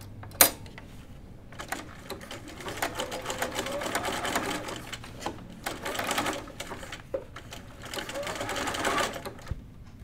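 A sewing machine stitches pull-on jeans in short uneven runs, starting and stopping with clicks and handling noises between bursts, close and fairly loud.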